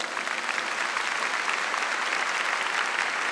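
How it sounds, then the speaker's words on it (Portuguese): A church congregation claps steadily and continuously during a Catholic Mass, a dense wash of applause filling the room. "Essa palavra merece uma salva de palmas."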